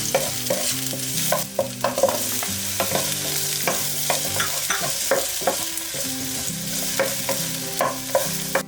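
Garlic and onion sautéing in a pan for beef broccoli, a loud continuous sizzle with frequent spatula scrapes and knocks at a brisk, steady stirring rhythm, close up and without talk.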